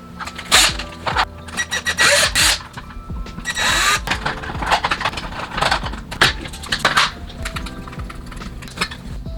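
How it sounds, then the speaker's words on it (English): A power drill bores large holes through an Aeon Pro pump kit stock attachment in short, loud bursts of whirring and grinding, broken by clunks and handling knocks. "Time to drill out the big holes."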